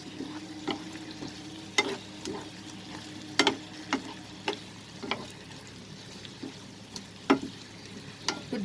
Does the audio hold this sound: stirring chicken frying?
yes